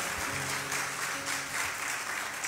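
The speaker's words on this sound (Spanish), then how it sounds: "Give a big round of applause to the Lord." Church congregation applauding during a Spanish-English sermon, a diffuse, sustained wash of clapping from a large room, fairly soft and steady with a faint low hum beneath.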